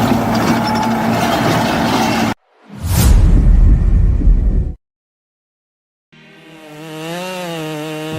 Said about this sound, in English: The chainsaw's roar tears through the wilderness as a logger faces a massive tree.